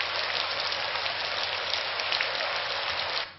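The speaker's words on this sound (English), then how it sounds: "Consider in contrast the sound of rain." Steady rain falling on a surface, a dense even hiss of countless drops that continues unbroken at moderate volume and then cuts off abruptly at the end.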